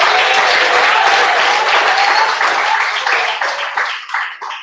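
A church congregation breaks into loud, dense applause during a lively worship service, the clapping swelling close and full before gradually tapering off into scattered claps.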